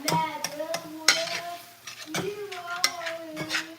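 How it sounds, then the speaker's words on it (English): Garlic sautéing in a pan for turkey meatloaf, with a light sizzle under repeated sharp clinks and scrapes of a utensil against the pan at a regular rhythm, close and moderately loud. "Decent amount of garlic. Saute it up."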